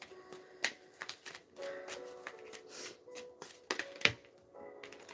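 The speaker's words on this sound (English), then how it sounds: "I saw that while I was shuffling." Tarot cards being shuffled by hand, quiet scattered riffles and slaps with short sharp snaps, close and soft, with no talking.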